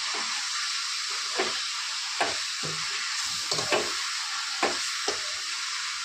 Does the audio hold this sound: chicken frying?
yes